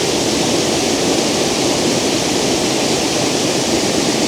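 Lower Campsie falls waterfall pours in a steady, loud, unbroken broadband roar that holds level throughout, with no voices over it.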